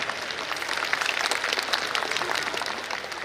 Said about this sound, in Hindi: जरा इन विद्यार्थियों के लिए जरूर आप ताली बजाएं।